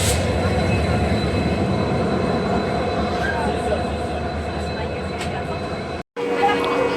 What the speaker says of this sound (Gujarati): WG9 લોકોમોટિવ સાથે સુરેન્દ્રનગર ભાવનગર ઢોળા જંકશનમાં એન્ટર થાય છે